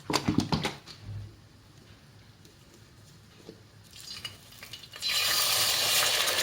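A pan starts sizzling loudly after a few seconds of quieter clinks and stirring, tomato sauce going in, the hiss holding steady and bright until the end.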